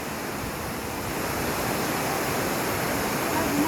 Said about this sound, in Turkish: Munzur'un şelalesi. Munzur Irmağı.